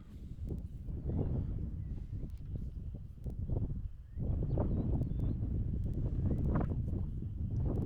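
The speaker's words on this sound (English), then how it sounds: "Wind was horrendous, as you can see." Strong wind buffets the microphone at an outdoor shooting range, with steady low roaring gusts that rise and fall and swell louder in the second half.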